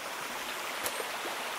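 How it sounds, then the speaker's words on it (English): A creek flows steadily past a log jam area in the Bluff Creek woods, a soft, even wash of water close by with no talk over it. "the creek's right behind me"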